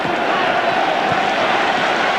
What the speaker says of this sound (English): So the crowd asking Maryland to come back with an answer.